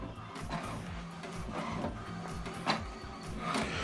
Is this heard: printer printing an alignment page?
yes